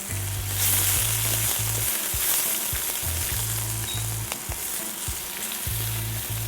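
Onions fry in a pan over lowered heat, a loud, dense sizzle that runs continuously, close up, with a low hum beneath.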